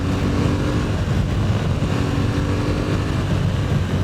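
An Aprilia Tuareg 660 motorcycle engine under engine braking on a test ride, a steady low rumbling drone mixed with wind rush, heard close and continuous.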